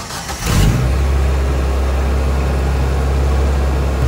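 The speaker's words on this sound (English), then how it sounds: "Let's start this thing up and make sure it's not leaking." A Suzuki Samurai's engine cranks and catches after about half a second, then settles into a loud, close, steady idle rumble.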